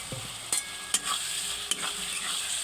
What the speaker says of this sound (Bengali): এবার মশলা ভালো করে কষে নেব